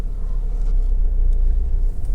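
A Honda CR-V 1.6 i-DTEC SE diesel on a road test gives a steady, deep rumble of engine and road noise inside the cabin, continuous and fairly loud with no talking.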